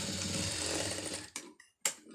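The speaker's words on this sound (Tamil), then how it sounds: "அப்படியே கரெக்டாக தையல் போட்டுருங்க." A sewing machine stitches a folded hook-and-eye strip with a steady, close, continuous whirring hum that cuts off abruptly and is followed by two short bursts of stitching separated by brief silences.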